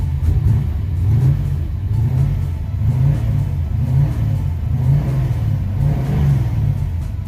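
A 1969 Chevy Nova coupe with a high-performance engine idles close by, a steady deep low rumble with a loping, slightly uneven pulse that holds throughout without speech.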